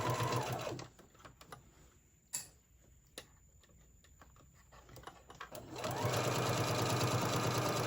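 A sewing machine stitches fabric for a tote bag in two steady whirring runs at the start and the end, separated by a quieter stretch of faint clicks and taps while the cloth is adjusted.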